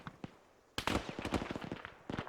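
A frag grenade goes off in a military shooter game: a sudden loud blast at close range, followed by a dense crackle of rapid gunfire-like pops and debris, with a second burst near the end.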